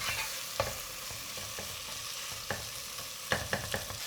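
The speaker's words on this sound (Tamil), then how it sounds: "கொஞ்சம் வதங்கட்டும்." Tomatoes sauté in a pan with a steady close sizzle, broken by sharp scraping clicks from stirring, scattered and clustered toward the end.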